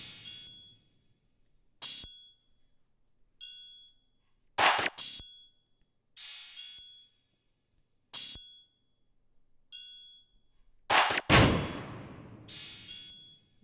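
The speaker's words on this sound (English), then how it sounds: "let me play you all the percussion elements" Percussion of a type beat in FL Studio: bright metallic ding and clang hits in a steady looping pattern, rim shots and a triangle ringing briefly, with a louder crashing burst near the end.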